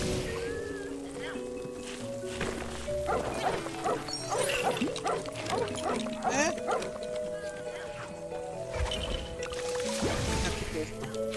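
A dog barks in the Lego Harry Potter video game, a series of short yaps and barks over steady tonal game music and background sounds.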